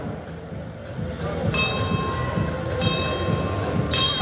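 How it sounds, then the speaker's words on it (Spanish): A bell signalling the start of a 24-mile race, ringing as clear sustained tones that come in and out over a low rumble of crowd and ambient noise, moderately loud. "Maripé, atención a la campana."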